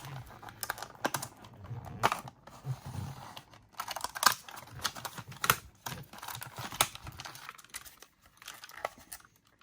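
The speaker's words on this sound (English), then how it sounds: "I'm just going to cut it open with an X-Acto knife" An X-Acto knife slices open the plastic bubble and card of a retro G.I. Joe figure package, giving close, faint scratchy cuts and crinkling plastic in irregular bursts, with no talk.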